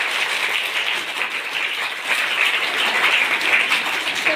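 An audience at a school event gives loud, sustained applause for the parents, dense crowd clapping that holds steady for several seconds with no talk over it.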